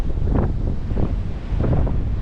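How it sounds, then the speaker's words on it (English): Strong wind buffets the microphone on a rocky shoreline while waves surge and break against a sea wall, rising in rough, loud bursts of wash over a constant gusty roar. "waves breaking over the wall"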